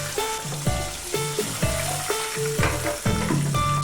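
Flour-coated chicken pieces deep-frying in hot oil, a steady close sizzle with bubbling crackle and repeated clunks and knocks of utensils against the pan, no voices.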